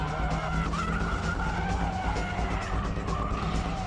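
A car in a braking drift slides with its tires skidding, producing a continuous, steady squeal over the rumble of the engine, loud and unbroken throughout.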